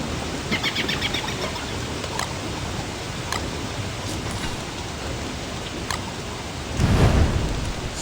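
Steady rain hisses through the Don't Starve game world, a dense even wash of falling water with a few faint ticks and a brief swell of heavier downpour near the end, no voices.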